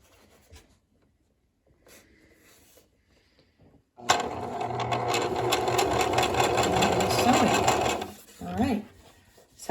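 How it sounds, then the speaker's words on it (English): A sewing machine, started slowly with its foot pedal, stitches fabric in one burst of about four seconds, a close, busy mechanical whir that rises after quiet handling noises and then stops. "now I am going to press the foot pedal very carefully and slowly to start the machine"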